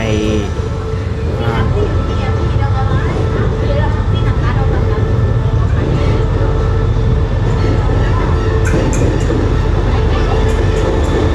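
Train hauled by a GSY locomotive at Thung Song station, Nakhon Si Thammarat, rumbling loudly and steadily throughout with rolling wheel clatter, engine drone and occasional squeals, voices faintly present underneath.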